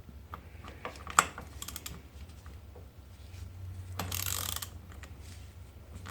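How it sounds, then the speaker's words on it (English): A hand ratchet works a dry, unlubricated bolt on a Honda ATC200 three-wheeler, giving scattered close mechanical clicks with one sharp knock and a brief harsher rasping burst, no talking. "I'd keep using the ratchet for as long as you can."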